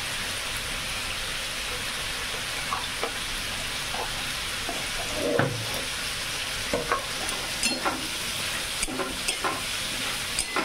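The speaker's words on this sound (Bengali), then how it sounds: "পেঁপেকে কখনো কড়া করে ভাজবেন না, এটা হালকা হালকা করে ভাজা হবে" Raw papaya fries in a pan with turmeric and chili powder, giving a steady close sizzle with scattered scraping stirs and small crackles throughout; no one speaks.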